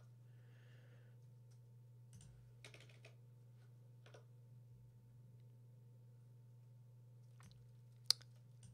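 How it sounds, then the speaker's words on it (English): Computer keyboard typing, very faint and sparse, with a few scattered key clicks in short bursts and one sharper tap near the end over a low steady hum. "I was typing in here"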